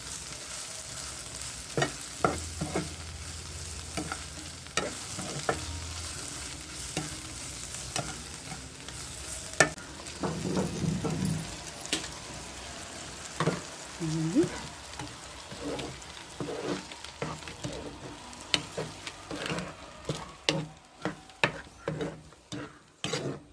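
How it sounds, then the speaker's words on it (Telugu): Okra yogurt curry being stirred in a pan: repeated scraping and clacking strokes of a spoon against the pan over a steady background sizzle, irregular and close, with no talk. "ఇవన్నీ ఇలా కలిపేసి ఇప్పుడు ఒకసారి తిప్పుదాము."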